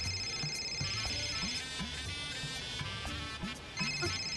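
A phone ringtone plays as a repeating electronic melody across the whole stretch, steady and fairly loud over a faint indoor room background, with no talking.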